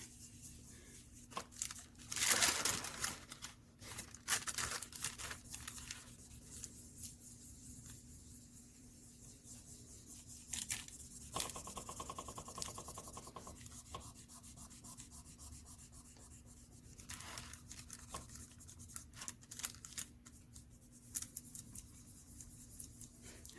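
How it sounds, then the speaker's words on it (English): Pieces of polymer clay being burnished together by hand for a pendant, a soft continuous rubbing and scraping with brief louder rasps, close and quiet, without speech. "Really want to stick these together well, so just burnish, burnish, burnish."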